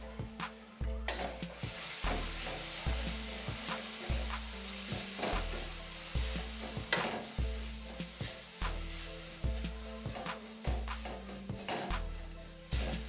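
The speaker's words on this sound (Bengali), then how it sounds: "ভালো করে কষিয়ে নেব।" Fish head cooks in a pan with onion paste, cumin powder and chili powder, a steady sizzle with a rhythmic series of regular spatula scrapes and knocks repeating about every second, fairly quiet and close, no speech.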